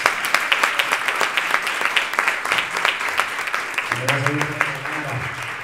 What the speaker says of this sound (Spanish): Dale un aplauso, hombre!